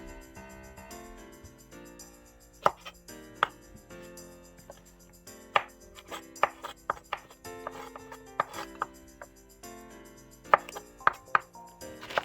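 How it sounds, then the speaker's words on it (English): Quick, irregular knife chops knock against a cutting board as green chili is cut into small pieces, with steady music playing underneath throughout. "Cut green chili into small pieces."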